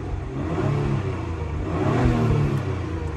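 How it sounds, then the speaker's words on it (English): A 2021 Acura TLX Type S V6 in normal mode hums at a moderate, even level after starting, swelling slightly as it revs. "It sounds like a Honda V6."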